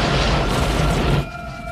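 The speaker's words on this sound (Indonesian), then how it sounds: "membuat kapal yang ditumpangi Decker meledak" A ship explodes at sea in a film scene, with a loud, dense, rumbling blast that roars for about a second and then cuts off abruptly, leaving fainter tones behind.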